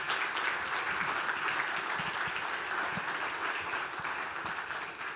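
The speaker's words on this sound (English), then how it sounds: "Can we get a big round of applause for our panelists?" An audience gives the panelists of a UConn and iHeartMedia career event a round of applause, a continuous even patter of many hands clapping at moderate volume that tapers slightly toward the close.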